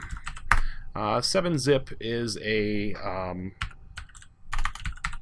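Computer keyboard typing of a software search query for the 7-Zip compression tool, quick clicking keystrokes in bursts around and under a man's speech.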